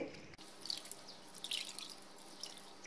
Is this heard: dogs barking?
no